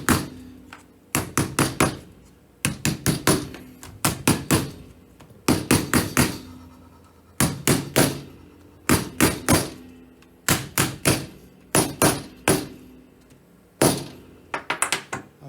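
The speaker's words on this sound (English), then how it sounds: "And just taking my hammer, start them off." A hammer taps parts of an N gauge display cabinet with rails and ramp together on a table, in repeated bursts of two to four sharp close knocks separated by short pauses.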